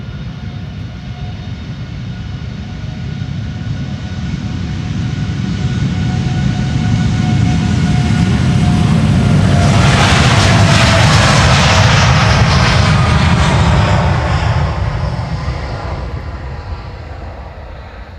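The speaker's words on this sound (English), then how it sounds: "TUI is leaving for Boner" A TUI jet airliner takes off from Polderbaan runway 36L at Amsterdam Schiphol: a loud, broad engine roar builds over several seconds, peaks with a harsh hissing rush as it passes close, then slowly fades.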